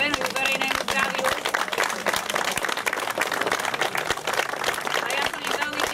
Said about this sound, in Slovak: jeden veľký potlesk za to, že v svojom voľnom čase takýmto spôsobom sa venujú verejnému zdraviu.